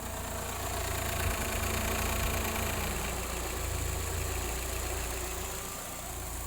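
Fiat Tempra 1.6 MPI car engine idling steadily at high temperature with its radiator fan running, a constant close drone of engine hum and fan rush with no talking.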